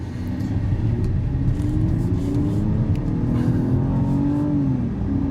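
A 2004 BMW E46 325ci coupe with a 2.5-litre six-cylinder engine drives along. The engine hums loud and steady from inside the car and its pitch climbs smoothly as it speeds up.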